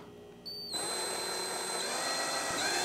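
A power drill whirs up after a brief faint hum, then runs steadily and loud with a high whine as it pre-drills through wood.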